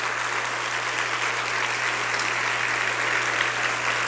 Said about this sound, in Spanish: un fuerte aplauso a don Iván García Guerra